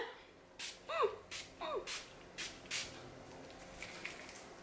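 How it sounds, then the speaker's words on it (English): Several short bursts of BH Cosmetics Studio Pro makeup setting spray, about five or six quick puffs in an uneven rhythm, close and moderately loud, with faint breathy voice sounds between the first few. "This is the BH Cosmetics Studio Pro Makeup Setting Spray."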